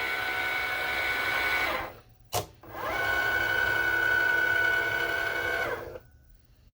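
A Cricut cutting machine cutting cards, whirring in a loud, steady motorized drone, pausing briefly with a click, then resuming its carriage movement before stopping.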